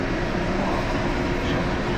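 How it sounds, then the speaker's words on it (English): The orange Disneyland monorail pulls into the station with a loud, steady rumbling roar that holds at a constant level, close and unbroken, with no talking over it. "the orange monorail just pulled into the station"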